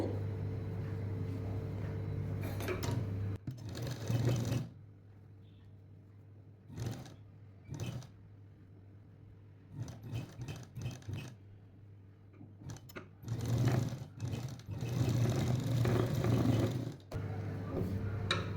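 A sewing machine stitches along a blouse edge, a 38-inch three-piece princess-cut jacket, in several short, close bursts separated by quiet pauses, with a steady low motor tone in the runs.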